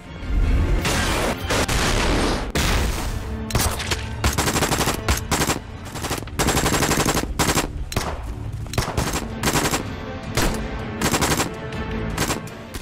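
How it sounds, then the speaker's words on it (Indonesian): A film shootout at a hut as police open fire: bursts of automatic gunfire and heavy booming shots crowd together, loud and continuous, with brief gaps between volleys. "pasukan polisi yang ada di sana mulai menembaki anak buah Sergi yang berjaga di sekitaran pondok"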